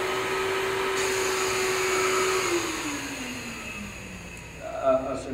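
A roots-type positive displacement blower runs steadily with a droning hum whose pitch slowly sinks as it slows down, a broad airy rush beneath it and a brief bump near the end.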